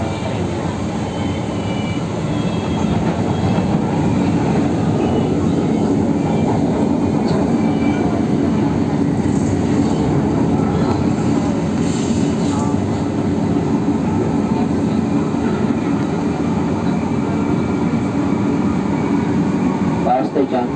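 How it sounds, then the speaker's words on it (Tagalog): Steady rumble and hum inside a moving passenger train headed toward Baclaran, with continuous rolling noise and air-conditioning drone throughout, and a voice faintly present under the din. "Ayan, so nakasakay ako dito sa train."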